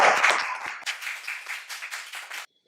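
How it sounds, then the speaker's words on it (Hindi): Scattered clapping from an audience at a political speech, a loud burst at the start thinning into irregular claps that stop abruptly after about two and a half seconds. "तालियां।"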